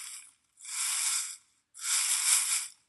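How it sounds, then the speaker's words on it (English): Wind sweeps leaves through trees in two soft, breathy rushes, each swelling and fading with a short gap between, quiet and isolated. "The wind blows the leaves through the trees."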